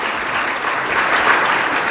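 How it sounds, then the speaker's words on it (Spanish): A church congregation applauding loudly, a dense, sustained burst of many hands clapping at once, close and even in level with no one talking over it. "Alguien puede alabar al Señor y darle un aplauso fuerte al Señor."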